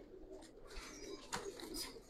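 Giribaz pigeons cooing softly in a loft, a male and female pair held in hand, with faint low coos amid outdoor background noise and rustling.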